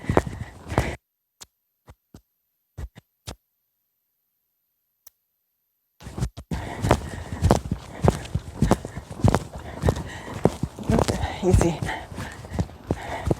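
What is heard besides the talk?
horse cantering, hoofbeats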